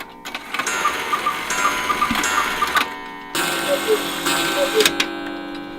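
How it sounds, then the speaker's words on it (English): A handmade Black Forest cuckoo and quail clock ticks steadily with mechanical clicking and whirring, then gives short tonal chime-like calls, heard close up in a quiet room. "it's a cuckoo and quail clock, which makes it a little bit more unusual than just a standard cuckoo clock"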